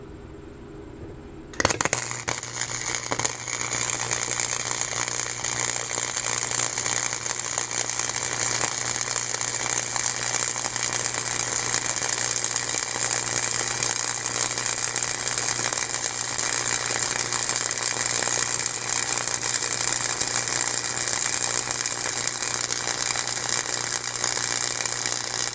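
A Chicago Electric 125 flux-core wire feed welder lays a weld pass, a steady loud crackling buzz that starts abruptly and holds continuously without pause.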